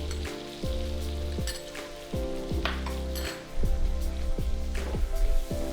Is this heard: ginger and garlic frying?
yes